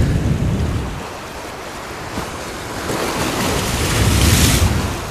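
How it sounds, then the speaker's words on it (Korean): Rough, wild sea waves roll and surge continuously during cold-water sea fishing, with strong wind buffeting the microphone and no talk. "파도가 와일드하다"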